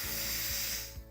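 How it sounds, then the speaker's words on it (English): An Instant Pot pressure cooker on quick release vents steam in a loud, continuous hiss with faint clicking underneath, easing off near the end; no talking. "We're just gonna do quick release"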